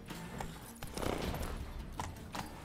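Roach the horse trotting with clip-clopping hooves in The Witcher 3, quick uneven thuds over a soft rumble of movement, faint and close, with no talking.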